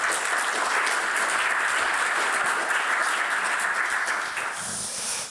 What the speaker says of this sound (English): Please give Jeroen a warm applause.